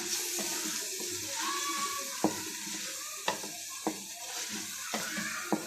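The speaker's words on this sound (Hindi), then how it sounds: "तो यहाँ मैं अच्छे तरीके से इसको मिक्स कर रही हूँ।" Bhuna qorma being stirred in a pot: steady scraping and sizzling with several sharp clicks of the spoon against the pot, close and continuous, with no talk.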